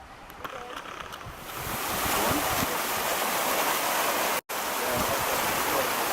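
A waterfall on a mountain trek in China gives off a steady, full-bodied roar that swells to a loud rush and holds there, broken only by a very brief dropout.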